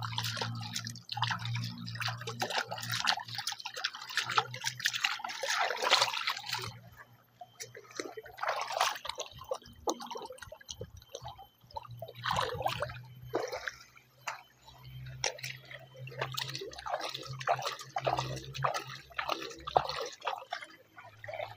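Water drips and trickles steadily while clothes are washed by hand, close and continuous splashing and dribbling with a faint low hum underneath and no speech.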